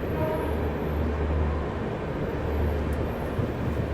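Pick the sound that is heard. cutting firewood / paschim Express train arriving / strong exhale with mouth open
paschim Express train arriving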